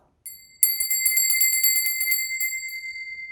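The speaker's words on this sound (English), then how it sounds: "I'm going to put a bell." A small altar bell set down with a soft knock, then struck and left ringing, its bright metallic tone sustaining and slowly fading, heard alone and close.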